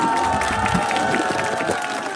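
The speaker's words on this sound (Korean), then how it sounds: "여러분 큰 박수 한번 주시겠습니까?" A crowd at a Reform Party presidential campaign event for candidate Lee Jun-seok breaks into sustained applause and cheering, a steady wash of many clapping hands with faint voices mixed in.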